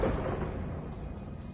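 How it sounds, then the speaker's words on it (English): Thunderclap spell cast in Hogwarts Legacy, a loud rumbling crash fading into a rolling roar, heard alone without speech. "Now be gone with a thunderclap."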